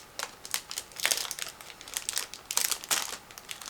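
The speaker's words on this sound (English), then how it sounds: "This is a sealed plastic bag, so I need to cut through in order to open it." A sealed plastic bag holding a 1/35 scale tank crew model kit is cut open, giving close, bright crinkling and crackling plastic in irregular bursts with short pauses.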